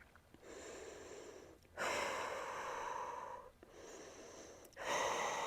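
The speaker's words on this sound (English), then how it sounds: "Take a few deep breaths." Slow, deep breaths during a yoga plank, alternating long noisy exhales and quieter inhales, close to the mic with no talking.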